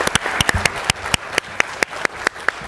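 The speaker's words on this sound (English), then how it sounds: "let's give them a round of applause because they did really well" Sparse applause at a city council meeting: a few people clapping in distinct, fairly regular claps that ring out one by one, moderately close, with no talk over them.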